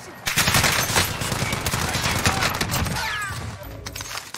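Bursts of automatic gunfire from an MP5 or sniper in Call of Duty Warzone rattle loudly and without pause, with a player's voice under the shots.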